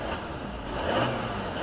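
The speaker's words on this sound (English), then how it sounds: "You want to give it a quick rev?" Toyota Land Cruiser 200 Series with a V8 turbo diesel engine given a quick rev, a deep rumble that swells briefly and then settles, heard up close.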